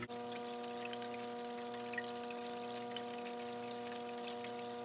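Paydirt and water flow steadily down a six-inch gold sluice, a continuous close rushing wash that stays even throughout, with a constant steady hum running underneath.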